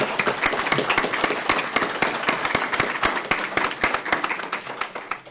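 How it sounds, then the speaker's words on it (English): An audience at a school board committee meeting applauds student presenters: a few seconds of brisk, close clapping from a modest crowd, with a faint voice underneath. "give a round of applause to our student presenters here tonight"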